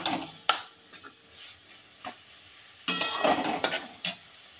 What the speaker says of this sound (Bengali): এখন ভালো মতো আবার একটু নাড়াচাড়া করে নিই।